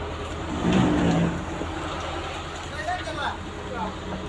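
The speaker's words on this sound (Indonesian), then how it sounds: "Mobil aja maju." A car edges forward with a low engine rumble, a brief louder swell early on, amid background voices and general outdoor babble.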